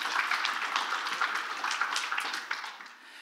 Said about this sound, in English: let's give our kids a big round of applause if we could